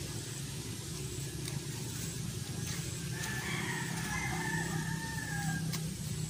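A loose chicken wandering in a backyard after being let out from a neighbor's coop gives a few faint calls midway through, set against a steady outdoor background hum with no one speaking.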